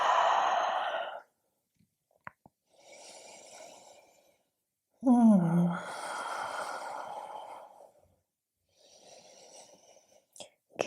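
Slow, deep yoga breaths alternate with quiet pauses: long airy exhales like sighs, a few soft inhales and small clicks, all close and alone with no talking.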